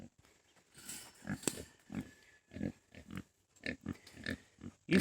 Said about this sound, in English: Nosy pigs. They're going to do it again. Oh, look. They're trying to get underneath the gate area that I have.